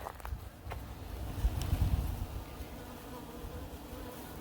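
Bees buzz steadily inside a hive box from a trap hive, a close, continuous low drone that swells briefly at about one and a half seconds, with some wind noise on the microphone.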